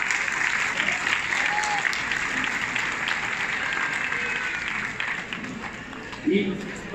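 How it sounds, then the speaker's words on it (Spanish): Sustained audience applause fills a conference hall for about seven seconds, dense and steady, with voices and cheers mixed faintly into the clapping and a brief louder swell near the end. "Un fuerte aplauso para él."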